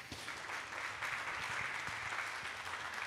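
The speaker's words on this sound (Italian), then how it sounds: "penso che vada il nostro applauso, il nostro caloroso sostegno" Audience applause at a talk on a democratic and inclusive Europe, steady dense clapping from a crowd that fills the whole stretch without voices.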